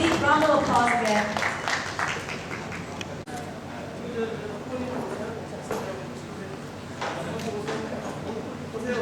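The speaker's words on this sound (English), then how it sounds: "Please give the Grand Champion a big round of applause again." Applause for the Grand Champion at a high school English debate final, a crowd clapping at moderate distance beneath a voice, fading into softer scattered claps as he keeps talking.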